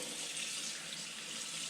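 Water trickles steadily onto a pot lid while kare kare pata cooks, a constant soft hiss and splash close by with no speech.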